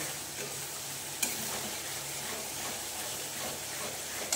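Marinated chicken drops into well-cooked spiced masala in a hot pan for dhaba-style chicken do pyaza, giving a steady sizzle and frying hiss with a couple of sharp stirring clatters, close by and without talk.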